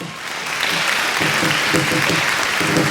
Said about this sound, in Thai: ขอเสียงปรบมือเป็นกำลังใจให้ด้วยนะครับ